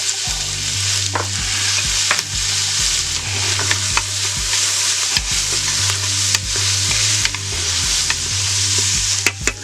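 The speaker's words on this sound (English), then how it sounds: "my celery and onions and bell pepper are sweating down pretty good" Celery, onions and bell pepper, seasoned with salt and black pepper, sautéing in a power pressure cooker: a loud, continuous close sizzle broken by repeated rhythmic scrapes and clacks of stirring, with no voices.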